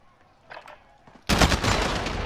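A burst of rapid automatic gunfire erupts suddenly in a battle royale video game, loud and sustained after a quieter stretch with a few faint shots.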